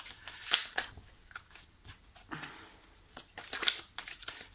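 Tarot cards shuffled and drawn from the deck, a run of soft papery riffles and crisp flicks with a few sharper snaps, close and fairly quiet, no talking.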